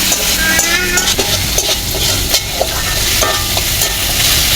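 Potato pieces fry and sizzle in a pan of oil with turmeric, chili, cumin and salt, while a utensil stirs them in steady repeated scrapes; the hiss is continuous and fairly loud, with no talking.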